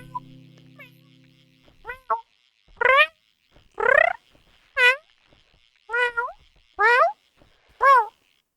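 A person imitates a cat into a microphone, making about seven separate, close, clear meows spaced roughly a second apart. A brief low hum and a few small mouth clicks come before them.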